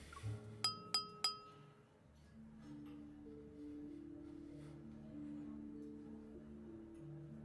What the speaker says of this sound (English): the crisp sound of clinking glasses captures everyone's attention